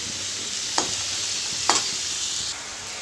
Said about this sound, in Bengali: আলু ভাজার পরে পেঁয়াজ ভেজে একবারে মশলাটা কষিয়ে নিচ্ছি আগে ভালো করে